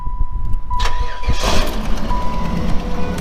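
A fourth-generation Chevrolet Camaro Z28 V8 cranks over and fires, then settles into a loud, close, rumbling idle, with a faint steady tone running underneath.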